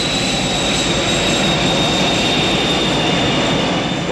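Aircraft engines roar during a takeoff roll, a loud, dense, continuous rumble with a steady high whine on top, close and unbroken throughout.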